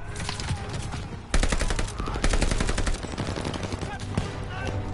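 Dense battle gunfire in the Call of Duty Vanguard campaign, with sustained machine-gun bursts and rifle shots layered under shouted game dialogue, loud and continuous throughout.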